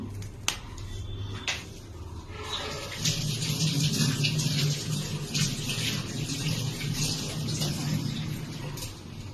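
Fruit is rinsed under a running kitchen tap, giving a steady rush of water with splashing that swells as the fruit goes under the stream, plus a few sharp clicks and knocks near the start.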